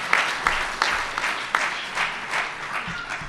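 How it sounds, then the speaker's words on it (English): A round of applause for GED graduates, including people who earned their diplomas at a county house of correction. A small group claps close by, with scattered separate claps and no talk. "So I'd like to give them a round of applause as well."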